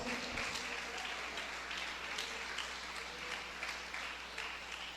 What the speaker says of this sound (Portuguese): glorifica a Jesus com palmas e com glórias